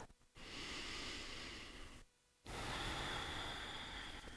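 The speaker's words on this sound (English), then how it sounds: "Give yourself 2 breaths." Two long, deep breaths during a gentle yoga class, each a soft airy rush close to the mic with a brief quiet pause between them.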